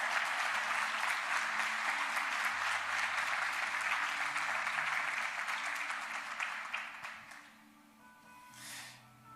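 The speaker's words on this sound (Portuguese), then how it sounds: "Pode dar uma salva de palmas, meu irmão, para Jesus." Sustained applause from a church congregation during a Sunday morning service, a dense steady wash of many hands that fades out over the last seconds, with a faint voice near the end.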